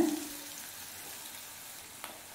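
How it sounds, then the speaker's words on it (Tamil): Finely chopped medium onion sautés in oil with spluttered mustard seeds and fenugreek, a soft even sizzle close by with a faint stirring scrape near the end. "வெங்காயம் நல்ல கலர் மாற வதங்கணும், நல்லா வதக்கிக்கோங்க"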